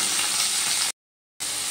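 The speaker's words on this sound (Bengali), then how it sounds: "এবার আমি ওই তেলের মধ্যে একটা টমেটো এরকম লম্বা করে কেটে দিয়ে দিলাম" Tomato slices frying in hot oil with flat beans, a steady loud sizzle that cuts off briefly and then resumes.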